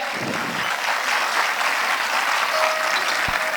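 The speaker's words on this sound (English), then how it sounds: "Parents, please give a huge round of applause to them." Parents applauding student musicians at a school annual day celebration, steady, dense clapping from a large crowd, loud and continuous throughout the short stretch with no talk over it.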